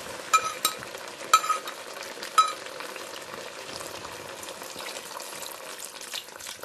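Osso buco being stirred in a pan with added broth, a quiet steady simmering sizzle with a few soft scraping knocks of the spoon near the start, and no talking.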